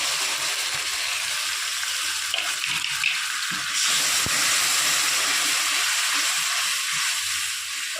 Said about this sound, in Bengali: এবার দিয়ে দেবো সামান্য পরিমাণ একটু মশলা ধোয়া জল, যাতে তলায় লেগে না যায়